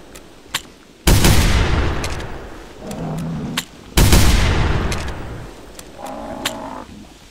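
Rifle shots fired at a T-Rex in the hunting game theHunter: Primal: two loud, booming blasts a few seconds apart, each rolling into a long decaying echo, with fainter clicks and creature noises between them.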